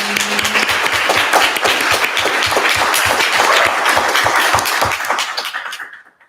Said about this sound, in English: let's give Chair Metalis and the Black Caucus a hand of applause for their events today